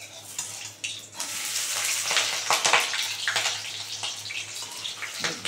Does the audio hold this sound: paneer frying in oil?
yes